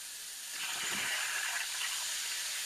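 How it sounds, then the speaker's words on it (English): A loud hissing sizzle swells up as water hits meat frying in a hot pan, steaming continuously without voices. "You hear that? That's when you know it's frying them right."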